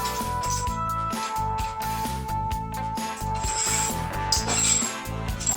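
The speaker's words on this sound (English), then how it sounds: "Now we'll use the 7/16 wrench to unscrew the winding cone of the spring." Ratcheting wrench turning the winding cone of a garage door torsion spring, a steady run of rapid mechanical clicks with metallic pawl ticks, close and continuous with brief pauses between strokes.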